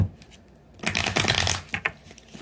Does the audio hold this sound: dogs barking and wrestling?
no